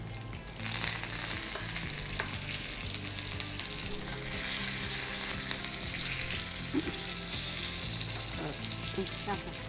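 Curry leaves tempering in hot oil, crackling in a dense, continuous sizzle that stays loud and close for the whole stretch, with no voices over it.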